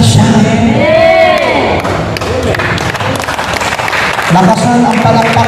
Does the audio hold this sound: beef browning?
no